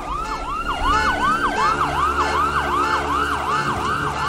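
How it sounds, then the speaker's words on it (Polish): Rising and falling electronic sirens wail in a rapid repeating cycle in the video game Beautiful Desolation, loud and continuous, with a low rumble underneath and no voices. "Syreny już wyją."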